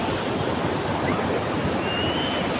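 Ocean surf at Sine Beach in Tulungagung rolls in as a steady, broad wash of breaking waves, loud and close with constant wind, no voices.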